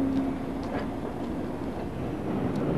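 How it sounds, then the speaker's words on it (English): A merry-go-round coal train rumbling past at close range, a continuous loud roar with faint rhythmic rail clatter and no talk. "I've got a high-speed train and all sorts of things going past me here at the moment."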